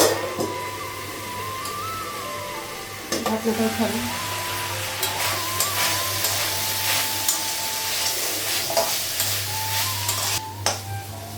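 Onions fry in a pan on a gas stove in a home kitchen, making a steady sizzle. A low constant hum runs underneath, and irregular clinks and scraping stir strokes come through. A faint voice is heard now and then.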